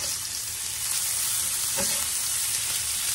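Sliced onion and potatoes frying in a skillet give a steady, close sizzle throughout, with a brief scrape of stirring near the middle.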